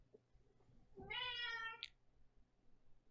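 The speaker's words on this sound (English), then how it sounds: "And the cat." A cat gives a single clear, drawn-out meow close by, rising and then falling. Faint background noise surrounds it and nobody speaks.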